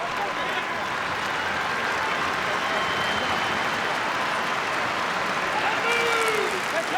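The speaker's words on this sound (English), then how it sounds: "the applause at the 15-minute mark here is for the late Kyle Turner" Stadium crowd at a South Sydney Rabbitohs v Sydney Roosters rugby league match, NRL Round 27, applauding for the late Kyle Turner: steady broad clapping and crowd noise throughout, with a commentator's voice faintly over it.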